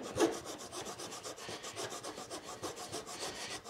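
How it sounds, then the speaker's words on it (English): A scraper drawn over a wooden desk surface in a DIY build, giving close, rhythmic rasping strokes at a steady pace, about a dozen repeated scrapes with no talking. "and then I'm gonna start scraping."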